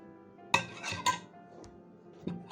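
A metal spoon stirs sugar into Turkish coffee in a small cup, giving a few sharp clinks against the rim between soft scraping swirls, close and clear with no talk.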